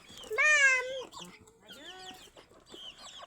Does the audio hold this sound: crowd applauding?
no